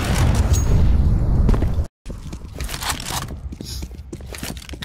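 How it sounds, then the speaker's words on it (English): Grenade blowing up in a video game: a heavy crunching burst that cuts to a brief silence, then scattered pops, debris and gunfire-like cracks continuing at moderate loudness. "Grenade out."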